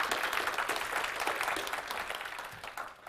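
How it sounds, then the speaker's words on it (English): An audience gives a round of applause for a visiting Bible college student, a dense burst of clapping that gradually fades. "You can give him a round of applause."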